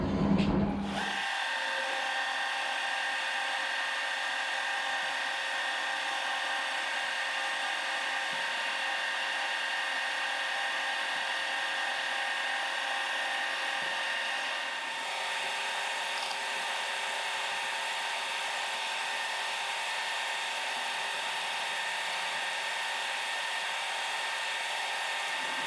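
A power drill whines steadily and loudly for the whole stretch while drilling a tapped hole in metal, with a brief start-up at the beginning and a slight dip partway through.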